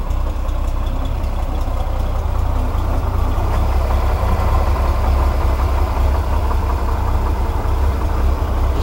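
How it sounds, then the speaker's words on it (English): A Striper engine runs at a slow, steady idle, a continuous low rumble that stays even and close throughout, with no voices. "Nice slow idle."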